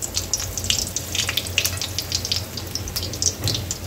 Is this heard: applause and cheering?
no